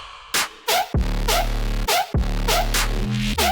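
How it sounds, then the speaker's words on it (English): A synth lead patch built in Serum with drive and an EQ cutting the lows plays a choppy, rhythmic electronic phrase of bright stabs. Deep sustained bass tones sit underneath in bursts. "It's a super sick lead."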